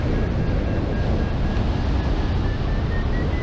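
Steady, loud wind roars and buffets the microphone while hang gliding low along cliffs, a dense continuous rush with no voices and no break.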